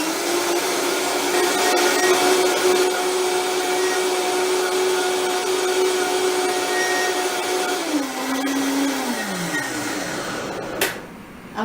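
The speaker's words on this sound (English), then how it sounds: "Then we are going to blend it until creamy." A blender whirs steadily as it purees a vegan turkey mixture until creamy, a loud sustained motor drone whose pitch drops as it slows near the end, followed by a sharp click.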